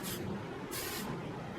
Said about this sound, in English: I'm going to go ahead and spray it with some hairspray